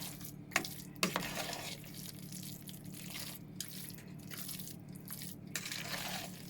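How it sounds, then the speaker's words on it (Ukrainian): A spoon stirs and mixes a casserole of macaroni and cheese in a home kitchen, giving soft, close scraping and clinking with a few sharper knocks against the bowl over a low steady hum. "вимішати його гарно, перемішати"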